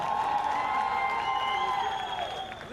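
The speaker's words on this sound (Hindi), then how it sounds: "एक और बार जोरदार तालियां, come on everyone!" Loud, sustained applause and cheering from a large crowd at a television show launch event, dense and continuous throughout with faint shouting mixed in.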